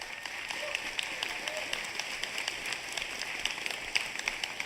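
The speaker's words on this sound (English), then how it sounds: "I got to give these innovators in marketing a huge round of applause and a shout out" An audience at a HubSpot business presentation applauds the marketing team, with sustained crisp clapping at moderate distance running the full few seconds alongside a faint underlying murmur.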